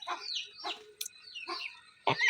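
Muscovy ducks on a farm give a few short, close calls in quick bursts with small gaps between them, with no talk.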